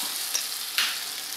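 Meat dropped into a pan of softened onions, giving a bright sizzle with a couple of sharp crackles, close and steady throughout.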